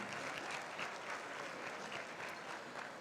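A fundraising gala audience gives a sustained round of applause for donors, dense and steady clapping from a large crowd that continues throughout with no talk over it.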